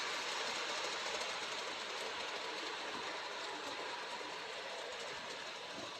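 An LGB model tank engine with an extra tender hauls a garden-scale ore train, giving a steady close rumble with dense rapid clattering of wheels and running gear that continues unbroken throughout.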